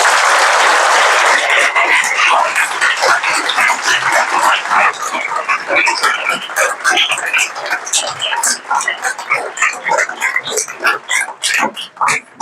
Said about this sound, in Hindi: तो एक बार तो जो मेरे से पहले जितने भी स्पीकर्स आए उन सबके लिए जोरदार ताली हो जाती है।